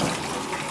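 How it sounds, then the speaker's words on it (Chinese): Water runs steadily from a tap while a lamb carcass is washed, a continuous broad splashing rush with no talk over it. "接下来咱们清洗一下这个小羊"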